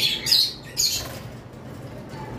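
Caged opaline lovebirds give a couple of loud, harsh squawks close by, followed by quieter background chatter.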